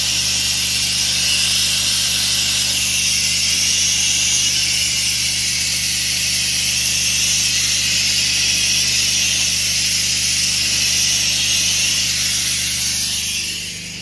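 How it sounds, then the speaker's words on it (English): Loud, steady hiss of media blasting on the nuts, bolts and small parts from a 1970 Honda ST50 K0 Dax restoration, running without a break and easing off right at the end. "All the nuts, bolts, everything's getting blasted."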